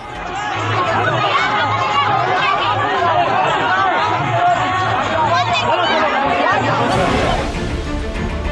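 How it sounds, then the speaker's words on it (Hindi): A dense crowd at a religious katha gathering in Meerut during a stampede, many voices clamouring at once in a loud, continuous, close babble that swells and shifts, with a brighter burst of noise near the end. "अचानक चारों ओर चीख पुकार मच गई।"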